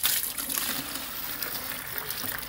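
Water gushing steadily as a tank is drained during checking and repair of an ITC 170W water pump, a continuous near hiss of flowing water with no talk.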